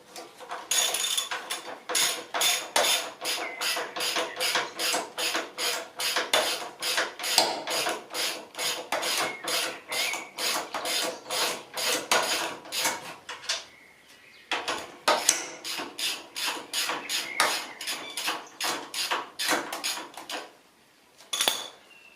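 Metal tools clink and ratchet in rapid, steady bursts while a brake caliper is unbolted from a Suzuki GSXR 600 SRAD motorcycle during restoration, close and continuous with a brief pause midway and a quieter tail.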